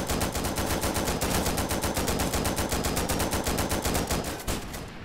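A firearm emptying its magazine in the video game America Simulator: a long, steady string of evenly spaced, loud automatic shots that runs almost without pause, then stops abruptly near the end.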